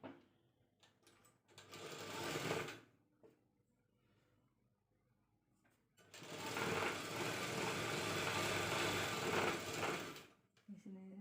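An electric sewing machine stitches a band onto a cross-cut blouse in two runs, a short burst of a second or so and then a longer steady run of about four seconds, close by with quiet pauses and light handling noises between.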